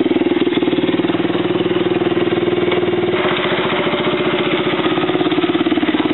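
A 110cc motocross bike engine runs steadily close by, with a loud, even idle and a slight change in pitch about halfway through, and no voices over it.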